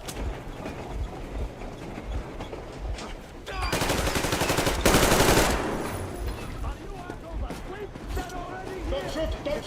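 Bursts of automatic gunfire in the Metro Exodus video game, loud and sustained for a couple of seconds amid a chaotic firefight, with shouted voices and other battle noise around it.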